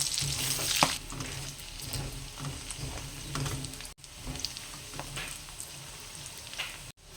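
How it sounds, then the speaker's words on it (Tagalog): Chopped garlic and onions stir-fry with pork in a hot pan, making a continuous crackling sizzle broken by stirring scrapes and a few brief clatters. The sound is close and there is no talking. "lagyan na natin ang ating garlic. Tsaka sibuyas. And then, haluin natin."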